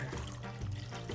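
Water is poured into a pan of carrots with butter, brown sugar and salt, giving a short, close, gurgling trickle.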